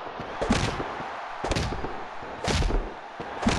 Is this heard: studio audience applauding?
no